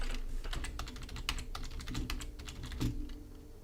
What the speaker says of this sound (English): I'm typing this into the browser to Google search the calculation